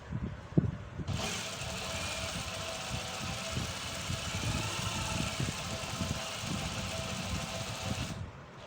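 A sewing machine stitching a seam along a line, a continuous mid-level motor whir with a fast rhythmic mechanical patter that starts after a short knock and runs steadily before stopping.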